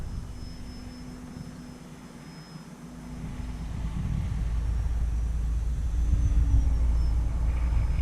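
E-flite Valiant RC airplane slow flying with flaps fully down at Avon Park Field: a steady low electric motor drone with a faint whine, rising and rumbling closer in the second half, with wind noise and no voices.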